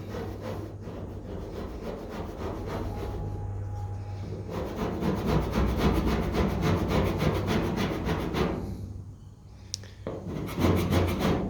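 Softened body filler being scraped off a truck cab seam on an F250 restoration, a close series of rough, repeated scraping strokes with gritty rasping texture, steady and fairly loud, with a brief pause near the end.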